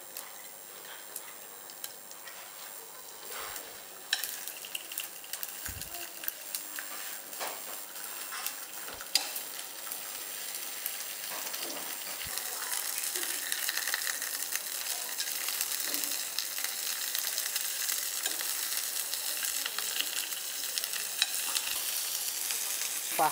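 Fish searing in a frying pan, with a steady crackling sizzle that grows louder partway through, plus occasional clicks and scrapes of utensils; no voices.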